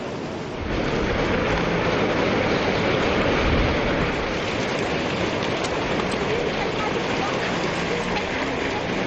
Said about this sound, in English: new pictures emerge of the tsunami that slammed into the eastern seaboard